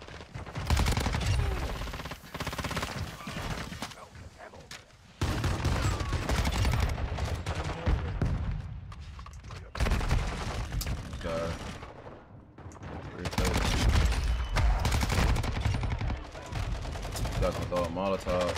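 Rapid automatic gunfire from a Call of Duty: Modern Warfare II match, loud bursts of shots with dense battle noise running through most of the stretch, pausing briefly between volleys, with a voice talking at times.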